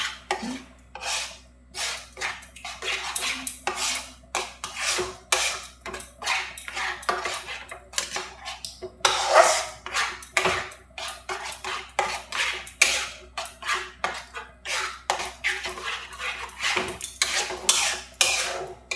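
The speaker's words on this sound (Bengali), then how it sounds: "ছানাটা দিয়ে এটার সাথে ভালো করে নাড়ব, যেন ভালো করে মিশে যায়।" Chhana stirred into a mango mixture in a pan for a mango sweet, giving steady repeated scraping and clinking of a utensil against the pan throughout, close and moderately loud with no talking.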